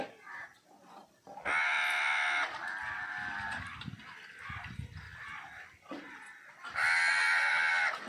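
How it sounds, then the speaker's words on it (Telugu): Crows caw in a village, with two long, loud, harsh calls standing out and quieter calling and background noise in between. "ఈ ఊర్లో కాకులు ఎక్కువైంది, గోల గోల."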